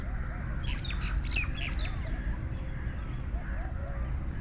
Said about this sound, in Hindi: ज़रा थोड़ी देर के लिए इन परिंदों की आवाज़ों को सुनिए।